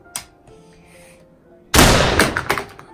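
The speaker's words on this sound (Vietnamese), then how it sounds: "súng này không phải thật, súng đồ chơi đây." Toy gun for kids fired once after a faint click, producing a sudden loud burst that decays over about a second with rattling bursts and clatter after it.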